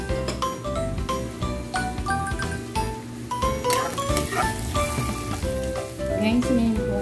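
Garlic and ginger fry in a pan for a beef papaitan bitter stew, with a steady close sizzle and frequent light clinks and scrapes of a utensil stirring.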